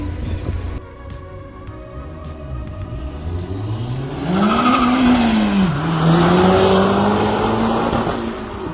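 A turbocharged Mazda MX-5 NC Miata out on a test drive, its engine loud and close, revving up and down in rising and falling sweeps with road noise and no talking.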